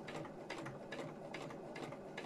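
A sewing machine stitches fabric as a child guides it, giving a steady mechanical whirr with quick rhythmic bursts of needle clatter, close and fairly quiet, with no talking.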